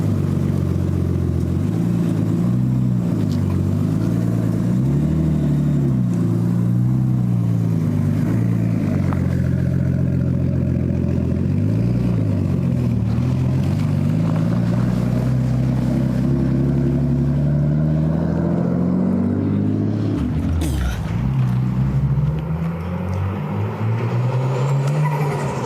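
Nissan R33 with an ISR Performance downpipe and Tomei Expreme titanium test pipe, revving repeatedly with loud, close engine rises and falls, a raspy exhaust note and a sharp blip near the end.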